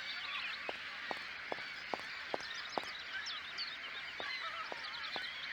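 Geese-like birds honk and squawk in a busy, continuous chorus in the video game Syberia, over steady ambient noise, with sharp clicks at regular intervals.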